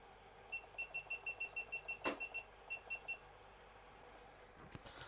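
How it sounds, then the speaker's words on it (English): A brewing timer set for a 10-minute hop stand on a pale ale beeps in a quick even run of about a dozen sharp electronic chirps, broken by one loud knock, then a few more beeps before stopping. "I'm going to set the timer for 10 minutes"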